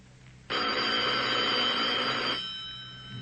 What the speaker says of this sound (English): You'd better answer the phone, dear.